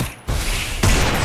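A headshot gunshot in the Free Fire Max mobile shooter lands as a loud, sharp burst, followed a moment later by a second heavy blast of game gunfire.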